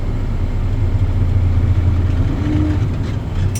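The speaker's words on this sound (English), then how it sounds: "I'm going to go ahead and continue to rev up my engine to ensure that my tanks are full" A tractor truck's diesel engine runs with a steady low drone during a CDL pre-trip air brake check, held at raised revs and close by, with no talking.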